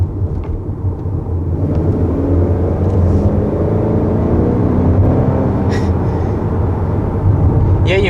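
A 2021 Honda Accord Touring with the 2.0-litre turbo engine accelerates hard: a loud, steady engine rumble and road roar run throughout, swelling slightly near the end, with no talk.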